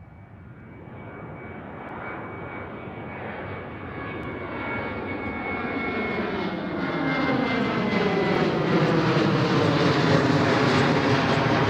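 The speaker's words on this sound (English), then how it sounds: "KLM 737." A KLM Boeing 737 jet at Schiphol Airport roars louder and louder as it approaches, its engine whine sweeping upward over a deepening rumble until the sound fills the space, close and powerful.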